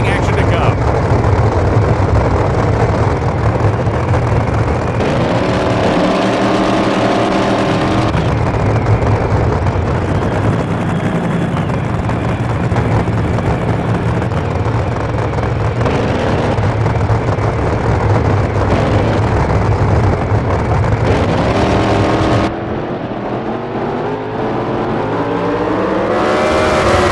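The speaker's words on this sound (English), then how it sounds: "we've got more NHRA drag racing action to come" Drag racing cars roar in the NHRA Speed for All video game at the Auto Club Nationals, a loud sustained engine blast with revving surges and rising gear-change sweeps, under steady commentary.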